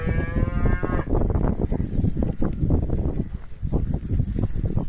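A cow gives a drawn-out moo at the start, followed by rumbling farmyard noise and wind buffeting the microphone.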